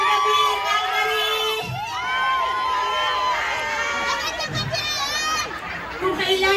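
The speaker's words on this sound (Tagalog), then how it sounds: "sumisigaw kayo ngayon" A live comedy show audience in Calgary shouts and cheers, with scattered whoops and high-pitched yells rising over a steady crowd roar, loud and close.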